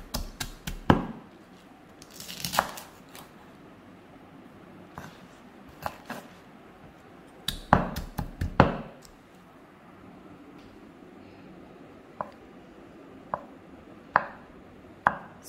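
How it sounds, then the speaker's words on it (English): Choy sum vegetable stems pounded on a board for Penang-style yee mee, giving scattered sharp thuds, a few clustered in quick bursts and others single and spaced apart, close and fairly loud over a quiet kitchen background. "you have to pound the stem"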